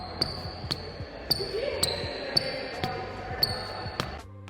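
Rhythmic basketball bounces echo through a gym, punctuated by sharp, high squeaks of Puma MB01 Low basketball sneakers on the hardwood floor, with faint talk in the background.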